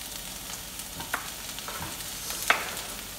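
Habanero and red and green serrano chilies fry in a pan for a salsa borracha, giving a continuous close sizzle with scattered sharp pops and crackles and no talking.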